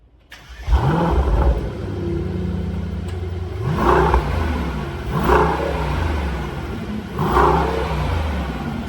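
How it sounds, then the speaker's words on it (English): A 2021 Mercedes-AMG E63 S sedan revs its engine in Comfort mode, with a startup bark followed by three separate throttle blips that rise and fall, loud and close, over a steady idle and no talking. "So it's now time for the ultimate sound check of the E63S."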